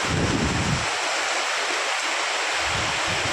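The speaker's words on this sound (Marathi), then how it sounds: "किती पाऊस चालू झाला आहे" Heavy rain pours down outdoors in a dense, roaring wash of noise, loud and close, with gusty rumbling buffets at the start and end as wind hits the microphone.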